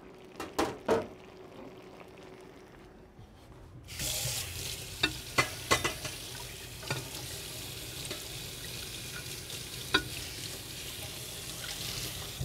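Red snapper in Veracruz sauce simmers and reduces in a pan, giving a steady soft sizzle and bubbling, with a few sharp stirring clinks and scrapes early on and more scattered through.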